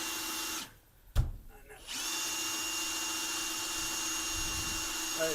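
A power drill drives a screw into metal in a loud, steady whine, stopping briefly after a sharp clunk, then resuming and running continuously up close.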